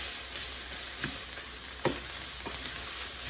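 Sausage fries in a pan with a steady, close sizzling hiss, punctuated by a few soft scraping or stirring clicks, no voices over it.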